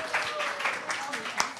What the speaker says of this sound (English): I think she really deserves a huge round of applause.